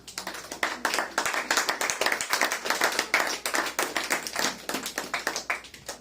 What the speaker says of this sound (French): Acclamez pour cette parole.